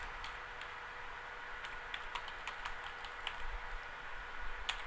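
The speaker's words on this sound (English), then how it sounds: "I'm using the left arrow on my keyboard to just tab across" Faint, quiet keystrokes on a computer keyboard while working in an Excel spreadsheet: scattered light clicks and taps over a soft background hiss, no talk.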